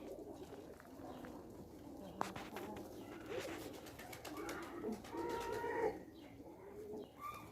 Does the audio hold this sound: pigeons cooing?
yes